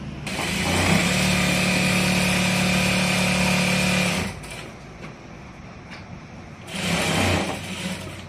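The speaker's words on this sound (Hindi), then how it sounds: "जैसे यहाँ तक इसको खींचेंगे और पूरे पर सिलाई लगा देंगे।" A sewing machine stitching a kurti runs in a loud, steady whirring hum for about four seconds, pauses, then starts again for a shorter burst.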